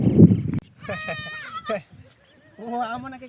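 Sheep and lambs bleat in several close, wavering calls, one after another, after a short burst of low rumbling noise at the start.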